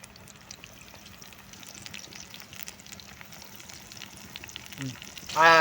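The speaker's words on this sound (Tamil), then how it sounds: "இப்போ வந்து எண்ணெய் நல்லா சூடாகிடுச்சு. இப்போ வந்து நம்ம இது பண்ணது பொரிச்சு எடுத்துக்கலாம்" Apple pieces frying in hot oil, a steady soft sizzle with faint crackles throughout, growing louder near the end as more bubbling and clatter rise.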